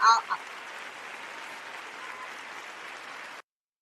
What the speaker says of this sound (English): Give yourself a hand clap on that.